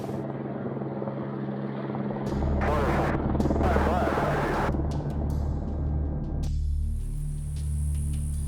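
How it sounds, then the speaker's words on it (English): Military helicopters at Fort Hood, a loud thudding rotor drone that swells overhead and holds steady, then gives way to a quieter hum near the end. "you can hear the military helicopters up overhead"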